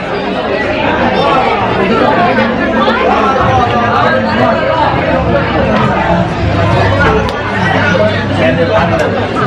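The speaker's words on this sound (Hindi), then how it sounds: "लेकिन बहुत ज़्यादा रश है यहाँ पे, बहुत भीड़ है" A big crowd packs a busy eatery on Durga Navami, many overlapping voices blending into a loud, continuous babble that stays close and constant throughout.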